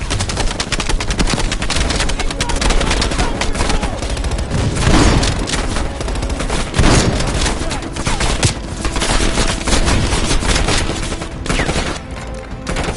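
Sustained, dense machine gun fire in Call of Duty Black Ops Cold War, loud and close with continuous rapid bursts layered over battlefield explosions, with a voice briefly heard amid the din.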